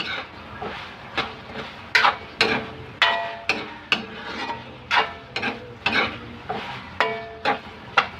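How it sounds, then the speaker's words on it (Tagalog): Ingredients for fried rice are sautéed in a pan with regular scraping and tossing strokes roughly every half second over a low sizzle, up close. "Nagigisa na natin mga guys"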